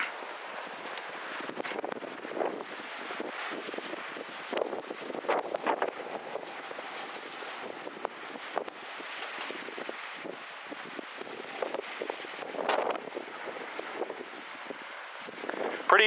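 Strong wind blows across an open outdoor site near wind turbines, a soft rushing roar with uneven gusts buffeting the microphone and no clear talking.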